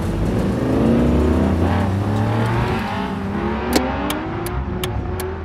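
Race cars in the video game BeamNG revving and driving past, engines rising and falling in pitch as they accelerate, with sharp clicks ticking in near the end.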